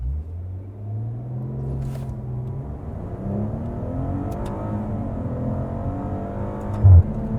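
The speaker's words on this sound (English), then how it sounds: "All right, launch it. I'll try." A 2020 Maserati Quattroporte Gran Lusso accelerating hard from a launch, heard from inside the cabin as a rising engine rumble that climbs steadily through the revs for several seconds.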